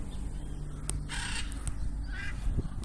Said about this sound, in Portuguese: Ó, as araras voando, ó. Olha quantas.